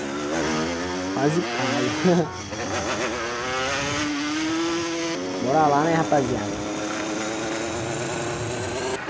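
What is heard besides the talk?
stolen motorcycle engine in video game GTA San Andreas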